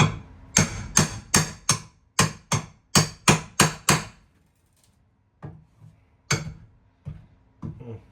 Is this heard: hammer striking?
yes